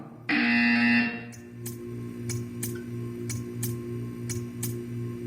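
A loud, steady electronic buzzer in the video game Portal 2 sounds for about a second, then stops, leaving a low hum with faint regular ticking clicks.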